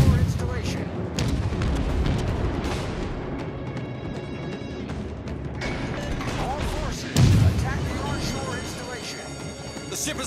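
Warship guns in World of Warships Legends pound an onshore installation in a Halloween Transylvania mission, heavy booms and crashing impacts piling up one after another, loud and dense, with a sharp burst of louder blasts near the end.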